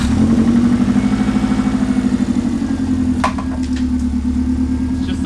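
A Subaru Legacy show car engine idling after a rebuild, a steady low throbbing hum with a slight rhythmic pulse, close and loud, with a short metallic clink partway through.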